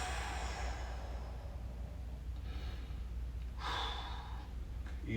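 A deep, slow exhale during a stick mobility stretch in a workout class, heard as soft, breathy rushes of air over a steady background hum, with one stronger breath near the end.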